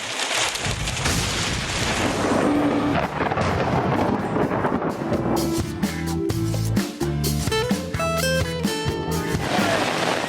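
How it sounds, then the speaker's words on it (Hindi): Heavy monsoon rain and rolling thunder over Karachi, a dense continuous wash of downpour with deep booming rumbles, loud and steady throughout, with a faint tonal layer rising in the second half. "कराची में दूसरे रोज भी बादल खुलकर बरसे।"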